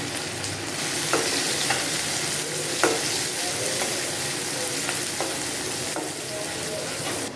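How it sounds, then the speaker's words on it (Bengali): Chopped onion and chilli fry in a pan after fish has been cooked, giving a loud, continuous sizzle with scattered ticks and stirring scrapes throughout. "পেঁয়াজের কুচিটা দিয়ে দিচ্ছি চপ মরিচটা দিয়ে দিচ্ছি"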